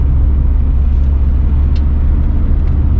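A car cruises along with a loud, steady low engine rumble and road drone, a constant vibrating hum with no voices.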